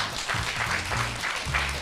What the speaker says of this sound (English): please give a huge round of applause for the Westin for hosting us today